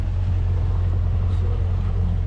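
A boat engine idles with a slight shimmy, giving a steady low rumbling drone that stays constant and fairly close throughout.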